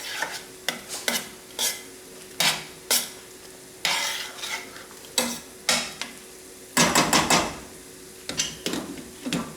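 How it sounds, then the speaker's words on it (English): A spoon stirs homemade sauce in a pot for cheese manicotti, scraping in short irregular strokes against the metal, close and fairly quiet, with a soft sizzle underneath. "now come back and stir our sauce yet once again"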